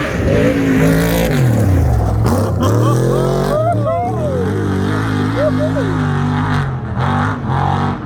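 A loud engine roars and revs as an off-road race vehicle approaches and passes close by during the Finke Desert Race in the Simpson Desert, its pitch rising and falling, with a voice faintly underneath.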